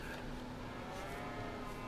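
Cows lowing in Farming Simulator on a multiplayer island cow farm, a faint steady bellowing drone from livestock near water, with no talk over it.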